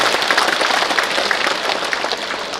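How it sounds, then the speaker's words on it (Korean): Dense, steady applause from an audience filling a hall at a lawmaker's constituency report meeting in Korea, sustained and fairly loud throughout with no speech over it. "박수 한 번 더 크게 보내주십시오"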